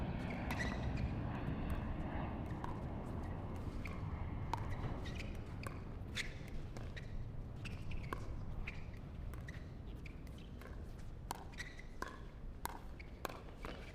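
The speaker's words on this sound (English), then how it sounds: "As you can hear, planes coming on over." Airplanes from LaGuardia airport pass overhead during an outdoor pickleball tournament next to the Billie Jean King Tennis Center, a continuous distant engine roar under frequent sharp ball pops and court footsteps.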